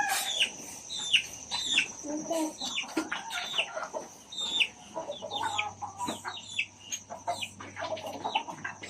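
Several chickens cluck and chatter busily, overlapping calls close by, with a faint steady hum underneath.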